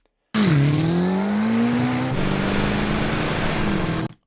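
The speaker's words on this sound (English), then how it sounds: "We'll bring up the engine on the truck here." A truck engine sound effect in a post-production mix cuts in abruptly with a deep rising growl, then settles into a steady rumbling drone that shifts character midway and stops cleanly after about four seconds, loud and close with no voices.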